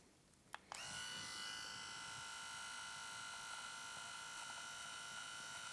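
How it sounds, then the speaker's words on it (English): Panasonic electric razor's sideburn trimmer switching on with a couple of clicks, then buzzing steadily and close for several seconds, a continuous high-pitched whine with no talking. "let's give the Sideburn trimmer a try"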